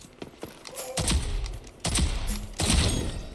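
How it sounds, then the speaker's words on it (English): Shotgun fire in the video game Rogue Company: three loud, booming blasts spaced slowly apart, each with a short tail, over faint background game noise. "Check out the shotgun."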